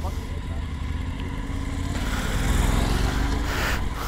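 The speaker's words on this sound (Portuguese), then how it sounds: "Deixa a moto aqui aquecendo" A motorcycle sits idling as it warms up beside a beach, its engine a steady low rumble throughout with mild background noise.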